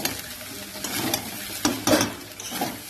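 Food being stirred in a hot pan over a gas flame turned up high, with a steady soft sizzle broken by several louder scraping stirs, close and alone.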